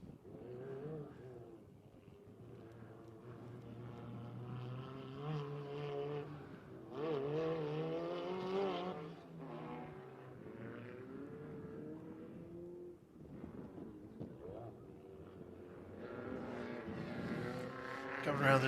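A race car with a heavily modified, non-stock Volkswagen engine roars around the track at Big O Speedway, its engine note rising and falling as it accelerates and lifts, with a race commentator talking over the noise.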